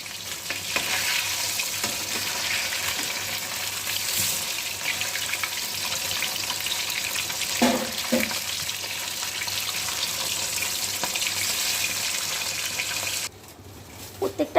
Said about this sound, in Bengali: এইভাবে প্রত্যেকটা মাছ আমি ভেজে নেব।